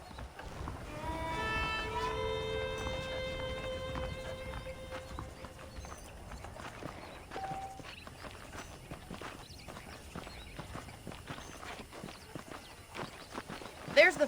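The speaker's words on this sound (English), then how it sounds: "The horses are saddled up over here." Horse hooves clip-clop at a steady walking pace in the video game Red Dead Redemption Remastered, moderately close under soft musical tones and background game ambience.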